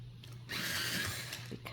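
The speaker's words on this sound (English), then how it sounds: "This one I'm going to sharpen" A colored pencil turned in a sharpener gives a steady grinding scrape for about a second, near and moderately loud, with quiet pauses before and after.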